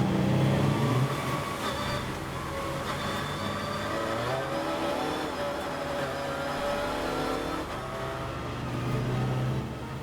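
Race cars in a club enduro championship at Oulton Park, including an Audi, drone continuously at close range with layered engine tones rising and shifting as several cars run side by side.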